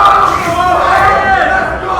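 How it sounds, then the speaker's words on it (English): A packed crowd roars and cheers at a Super Smash Bros. tournament top-8 match, a loud, dense wall of voices that stays steady throughout, with shouting mixed in. "Very loud in there. Very, very loud in there."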